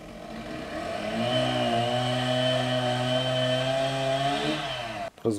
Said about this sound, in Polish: Czyli piła motorowa.